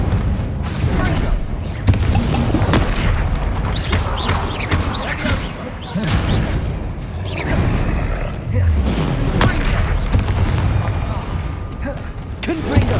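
Confringo and Incendio spell blasts in the Hogwarts Legacy video game, fought during a troll attack, produce loud, continuous booming explosions and roaring fire over a rumbling low end, with thuds and grunts mixed into the dense clamour.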